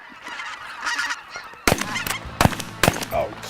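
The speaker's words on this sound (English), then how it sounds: "We've got greater Canadas, snow geese, and Ross geese." A large mixed flock of snow geese, Ross geese and greater Canada geese honks loudly and repeatedly, with dense overlapping calls that grow louder and closer, and several sharp bursts toward the end.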